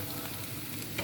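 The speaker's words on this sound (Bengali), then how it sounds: "পেঁয়াজটা একটু ভাজা করে নেব।" Onions fry in a pan with a brief, even sizzle, close and moderately quiet, no voices present.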